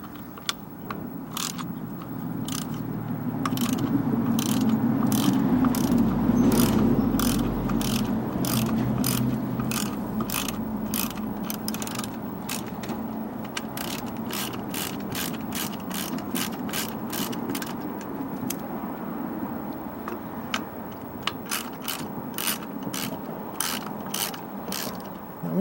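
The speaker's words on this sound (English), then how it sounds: "I'm going to get my ratchet." A 1/4-inch ratchet clicks in rapid bursts while turning bolts on a Ryobi CS26 weed trimmer, producing a long series of sharp, close pawl ticks over a low background hum that lasts the whole stretch.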